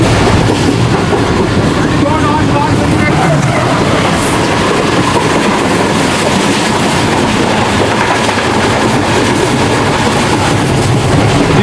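The Pak Business Express passes close by at full volume, a loud continuous roar of rail cars with rhythmic clickety-clack from the wheels, sustained throughout.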